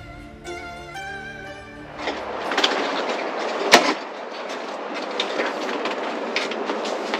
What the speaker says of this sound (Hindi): तो ट्रेन अब यहाँ से वापस जाएगी